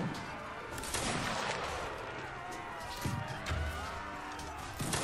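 Volleys of musket fire crack out in a Mount & Blade: Warband battle, with repeated sharp blasts and a heavy boom near the three-second mark, over a dense, noisy battlefield din.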